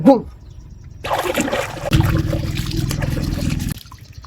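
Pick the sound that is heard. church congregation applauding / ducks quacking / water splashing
water splashing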